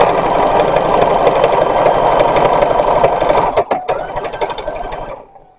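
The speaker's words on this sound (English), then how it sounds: "I'm stitching the panels together" A sewing machine stitches panels of a gauzy linen skirt for a 1916-pattern dress, running steadily and loudly up close before slowing and stopping at the end.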